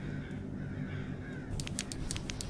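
Several crows caw in the video game Abandoned Souls, set in an abandoned hospital, a cluster of short harsh calls arriving in the second half over a low ambient rumble.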